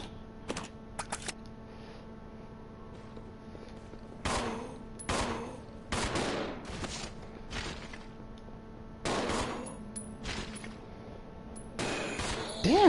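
Gunfire in the video game Resident Evil Zero HD, a series of sharp, loud shots in irregular bursts and singles with short gaps between them, heard over a low, steady game background.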